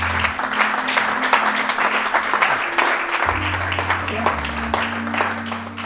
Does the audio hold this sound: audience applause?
yes